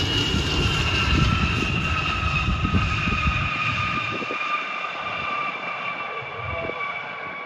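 An Air Canada CRJ 200 regional jet at Cleveland on a foggy evening, its engines a steady broad roar with a high whine, loud at first and easing off slightly as it taxis or rolls away.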